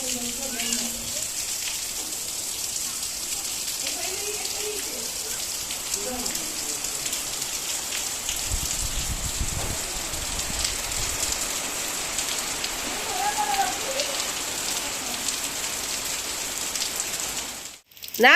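Steady rain pours throughout, a dense hiss of drops on surfaces, with faint voices briefly audible in the background.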